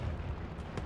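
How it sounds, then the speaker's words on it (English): Explosions in the Hell Let Loose game during a competitive match, a dense low rumble of blasts and artillery with one sharper boom near the end, loud and continuous with no talk. "Explosions. I hear airplanes."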